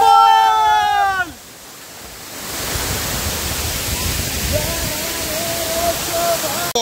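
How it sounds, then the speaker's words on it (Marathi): The Chingra Pagar waterfall in Gariaband, Chhattisgarh, gives off a steady, broad rushing roar that fills the scene. It begins right after a brief loud tonal sound and runs on at an even level to the end. "we R at चिंचपगारा waterfall"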